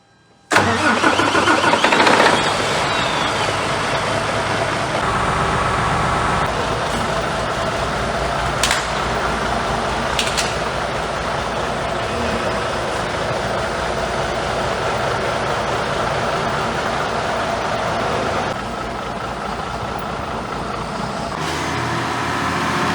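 A heavy Mercedes-Benz Actros 1845 truck's OM 471 diesel engine, with a cylinder seemingly running incorrectly, cranks and fires up loudly, then settles into a steady, rumbling run that continues without a break and with no talking.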